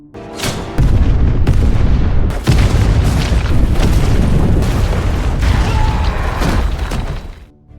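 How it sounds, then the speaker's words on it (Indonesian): A massive explosion erupts and roars on, a thick, continuous rumble with crackling debris that fades slowly toward the end. "Hugo berhasil selamat dari ledakan dahsyat itu"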